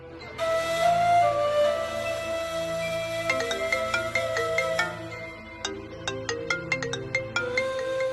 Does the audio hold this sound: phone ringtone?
yes